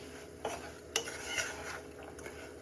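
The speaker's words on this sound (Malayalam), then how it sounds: "ഇനി ഇതെല്ലാം കൂടെ നമുക്ക് മിക്സാക്കി കൊടുക്കാം." Fried prawns pickle mixture stirred in a pan, spoon scraping and clinking a few times against the metal over a soft background sizzle.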